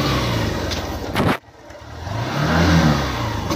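Engine of a motorbike idling and revving on a rainy outing to Hadagarha Dam, steady and fairly loud, cutting out briefly before picking back up with a rising rev.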